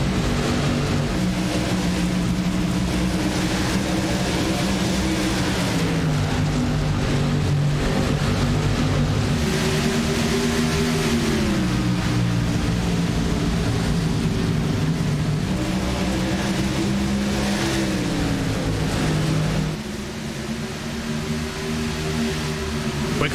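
Race cars at the start of a sim race at Rockingham roar together in a dense, sustained engine drone, their pitch rising and falling in waves as the pack accelerates through the opening lap.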